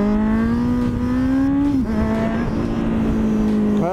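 A Kawasaki Z800e motorcycle accelerates in second gear during a wheelie, a loud, close engine drone holding a steady pitch that dips briefly mid-run and then carries on, with wind noise underneath.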